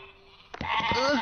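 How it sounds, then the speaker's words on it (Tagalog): Sheep bleat in an animated cartoon scene, a single wavering, rising cry that starts abruptly after a quiet moment and holds on loudly to the end. "Miss Pip, ang tupa!"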